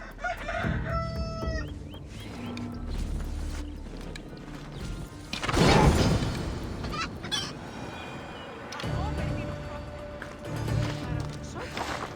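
Chickens cluck and a rooster crows in Assassin's Creed Odyssey, the farmyard calls mixed over a dense game soundscape with a louder swell midway and faint voices underneath.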